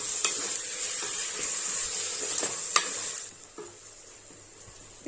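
Chopped tomatoes and onions sautéing in a pan for Tamil-style kuska, a steady close sizzle with occasional scraping stirs of a spoon, the frying hiss easing off partway through.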